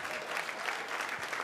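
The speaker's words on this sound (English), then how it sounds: "Hey, you can clap if you want." Comedy club audience at a stand-up show clapping, a dense steady wash of many hands fairly close, continuous for the whole stretch with no voice over it.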